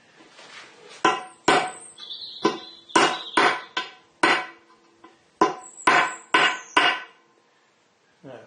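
A hammer taps repeatedly on a part of the saddle of a Harison M300 metal lathe while it is being taken apart, trying to turn it round: about a dozen sharp, close knocks in irregular bursts with short pauses.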